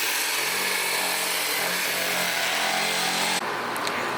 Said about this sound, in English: Time for more power tools.